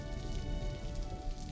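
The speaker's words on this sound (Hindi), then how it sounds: "बाहर जोर से बारिश हो रही है" Heavy rain pours down outside in a dense, continuous hiss and patter, loud and unbroken throughout with no voices.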